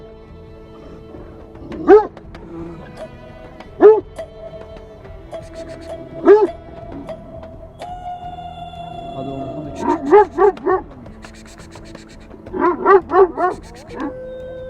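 Kangal dogs on a farm bark in sharp separate bursts, a few single barks spaced apart, then quicker clusters, with a voice calling briefly between them.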